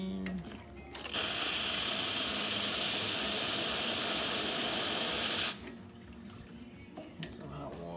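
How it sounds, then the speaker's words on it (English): Rocket Giotto espresso machine steam wand opening with a loud, steady hiss that holds for several seconds before cutting off, set among faint mechanical clicks. "Alright, we'll do some steam."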